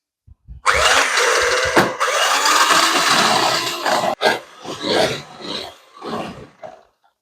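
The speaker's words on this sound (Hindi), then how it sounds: "अब ये बीट होगी तो ब्लेंडर से हम बीट करेंगे" An electric blender beats cream for finishing a cake, whirring loudly and steadily for several seconds, then stopping and restarting in shorter bursts, close up.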